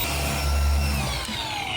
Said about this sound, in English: This polisher